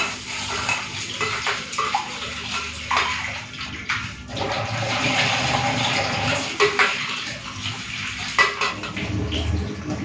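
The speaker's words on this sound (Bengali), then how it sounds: "ডালটা ধুয়ে দিয়ে দিই" Lentils (dal) rinsed by hand in a pot of water in a home kitchen, with steady splashing and sloshing plus occasional clinks of the metal vessel, close and fairly loud throughout.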